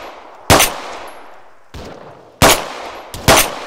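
Four separate rifle shots during an Arma 3 battle, loud and close, arriving at irregular intervals, each decaying into a lingering echo, with no voices over them.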